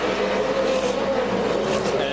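V8 Supercars racing cars accelerating together on a restart at the Adelaide street circuit, a dense, steady engine roar filling the air under a commentator's voice.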